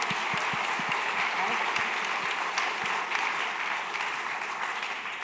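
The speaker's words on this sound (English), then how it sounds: "So one more round of applause for you guys." An audience applauding the creators of a Fringe stage show after a panel talk, continuous close clapping with a few sharp individual claps standing out, gently tapering toward the end.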